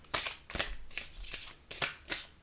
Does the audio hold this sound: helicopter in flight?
no